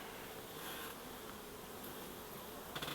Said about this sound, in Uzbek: ari bor.